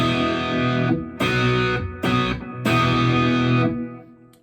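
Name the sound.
electric guitar through amp turned all the way up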